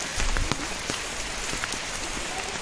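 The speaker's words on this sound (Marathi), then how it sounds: "पाऊस सर आता मित्रांनो कमी झाला आहे" Rain patters on the forest path leading to Savdav waterfall near Kankavli in Konkan, a steady hiss of falling drops broken by scattered sharper splashes close by, fairly soft and continuous.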